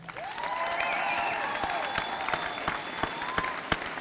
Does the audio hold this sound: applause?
yes